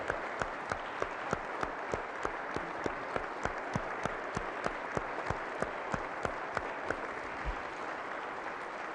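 Audience applause at West Virginia's 2021 State of the State address, a sustained dense wash of clapping with sharp individual claps standing out, steady and moderately loud throughout.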